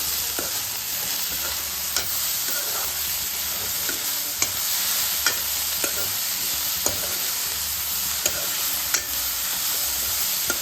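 A spoon stirs horse gram curry with jaggery in a hot pan, giving a steady sizzle with light scraping ticks at an even pace, close and fairly quiet, with no voices.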